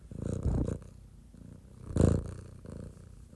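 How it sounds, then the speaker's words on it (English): A cat purring close by, a low rumbling vibration that swells and fades in uneven pulses, with one louder surge near the middle. "Listen to him purr."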